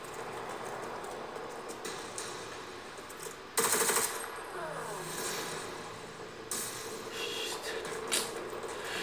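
Gunfire in the Necromunda Underhive War game, a few sharp bursts of shots with a loud burst early on and a couple of later cracks over a low ambient background.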